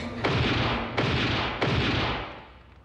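Three heavy gunshots ring out one after another, each a sharp blast with a booming, decaying tail, from a violent movie scene with no talk over them.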